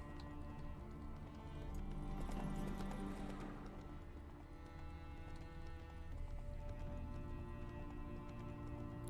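Horse hooves clip-clop steadily in The Witcher 3 while the horse seems to be limping, a close rhythmic trot over game music and ambience, with a brief whinny-like sound mixed in.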